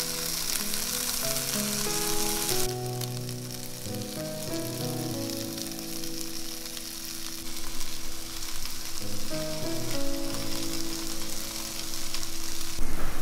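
Rice balls brushed with teriyaki sauce and topped with seaweed frying in a pan, giving a continuous loud sizzle with crackling. Soft background music plays beneath the sizzle, and nobody speaks.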